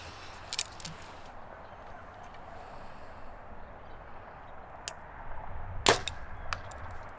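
A Mathews TRX 34 target bow releases an arrow with a sharp, brief snap, and a few fainter clicks follow, all in a quiet outdoor setting.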